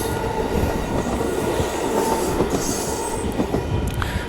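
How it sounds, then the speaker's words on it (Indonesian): A train rolls loudly along the rail line beside San Clemente beach, a steady rumbling clatter of wheels with faint squeals, close by and continuous, with no voices. "kebetulan ada kereta api lewat nih"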